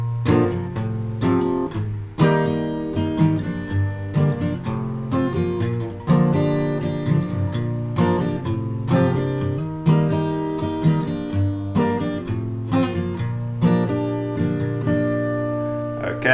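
Close acoustic guitar strumming the verse of a song, steady rhythmic chords repeating for the whole stretch, played alone without singing or talk.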